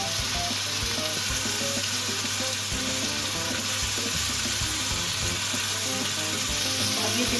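Tomatoes cooking down with turmeric, coriander and masala for a baingan curry, sizzling steadily in hot oil with occasional stirring clinks, continuous and close throughout.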